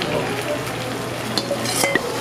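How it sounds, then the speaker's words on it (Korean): Sauce and glass noodles stir-frying in a hot pan, giving a steady close sizzle with soft scraping and a few light clinks of utensil against the pan, no talking. "이렇게 볶아야 됩니다."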